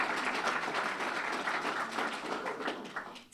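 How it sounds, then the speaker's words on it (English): Applause from the audience at a community fund annual meeting, a dense, steady patter of many hands clapping at moderate distance that continues throughout and thins slightly near the end, with no voices. "let's give them a big round of applause"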